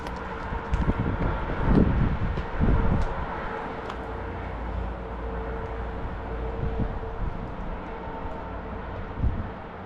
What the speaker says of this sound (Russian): Ветер, конечно, здесь, да, ужасный.